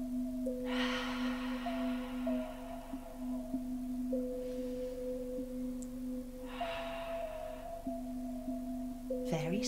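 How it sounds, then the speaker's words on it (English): Two slow, deep breaths drawn during a calm relaxation moment, soft airy swells a few seconds apart over a sustained low musical drone. "Let's take some lovely deep breaths."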